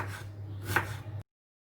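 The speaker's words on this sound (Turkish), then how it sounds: "Şimdi yavaş yavaş doğrama işlemine geçiyorum." A short, close burst of a knife working through onion on a board, a soft scraping cut lasting about a second before silence.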